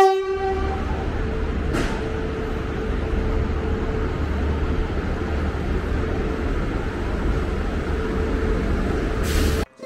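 A Vande Bharat Express train rolls into platform 2A at Chennai Central with a steady loud rumble, a tonal horn blast at the start, and short sharp bursts near the beginning and end.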